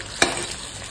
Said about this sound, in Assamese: এইখিনি ভালকৈ ভাজি ল'ব লাগিব প্ৰথমতে ধুনীয়াকৈ ভাজি আছোঁ